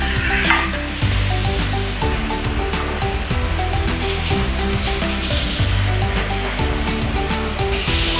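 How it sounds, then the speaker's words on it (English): Beef browning in a pan for Filipino caldereta, stirred continuously with a loud, close sizzle and repeated rhythmic scraping and rubbing of the utensil against the pan. "So we're gonna continue stirring this around."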